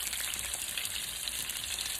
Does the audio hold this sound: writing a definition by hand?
no